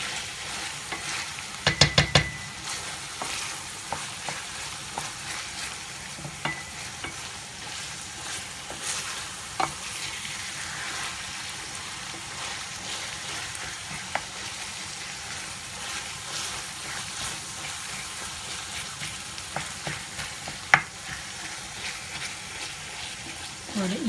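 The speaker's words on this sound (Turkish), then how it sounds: "iyice eziyorum ki pişmemiş çiğ olarak kalmasın kıymalar" Ground meat for içli köfte frying and being mashed in a pan, heard as a soft continuous sizzle with occasional scrapes and taps of the utensil, close but fairly quiet, and no talking over it.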